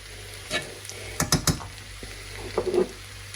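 Young potatoes with garlic scapes stirred in a pan, a few soft scraping strokes and light clatters over a faint, steady sizzle, with no talking.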